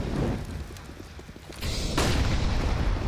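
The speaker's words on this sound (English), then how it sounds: "Some heavy nade damage." A grenade blast erupts in a Counter-Strike match on Inferno, a dull boom and swelling rumble that jumps louder partway through and lingers, with faint clatter before it.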